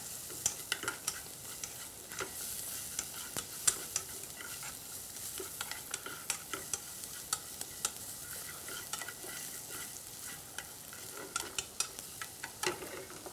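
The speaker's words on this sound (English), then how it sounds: "stir fried." Ingredients stir fried in a pan during plant-based cooking, with a steady sizzle and frequent scraping and stirring clicks of a utensil throughout, close and moderately quiet, no talking.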